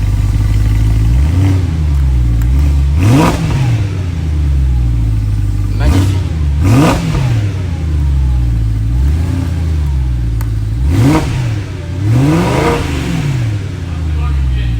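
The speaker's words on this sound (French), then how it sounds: "de donner des petits coups d'accélérateur. Tu montes jusqu'à 5-6." A BMW M3 E93 convertible with a 420-horsepower V8 revs repeatedly in short throttle blips, each rising and falling close by over a steady idle, with a brief spoken remark between blips.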